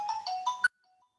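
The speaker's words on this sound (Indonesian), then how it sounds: "sebentarnya ada telepon" A phone ringtone rings once in a short melodic burst of bright tones, loud and close, then cuts off abruptly into silence.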